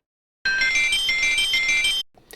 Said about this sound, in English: Here's the beginning chime part.